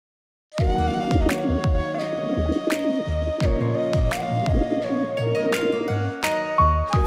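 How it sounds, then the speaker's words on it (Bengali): A pet pigeon coos in repeated soft, throaty bursts close by, the rolling calls following one another steadily after a brief silence, with no talk. "আপনার পোষা কবুতর, আপনার মায়া এখনো ছাড়তে পারেনি, এই জন্য উড়ে চলে আসছে"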